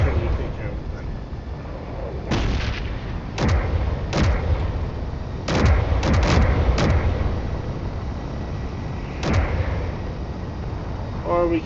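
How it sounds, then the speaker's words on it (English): Repeated artillery blasts in a video game, sharp booming impacts arriving irregularly, several in quick succession, over a constant low rumble of engine and battle noise. "let's just let the artillery take care of it then"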